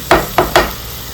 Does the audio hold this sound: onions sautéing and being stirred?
yes